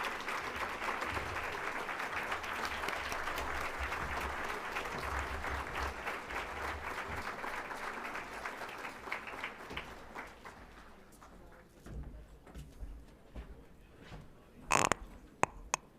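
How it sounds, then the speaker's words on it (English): Sustained applause from a crowd at a community breakfast keynote, dense clapping that continues strongly for about ten seconds, then thins out into scattered claps and fades. "Another round of applause for Dr. David Caban."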